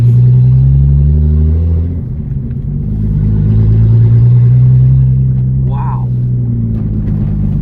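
A Datsun 280Z engine runs loud and close with a deep, throbbing idle that rises into a rev and then settles. A person briefly exclaims over it.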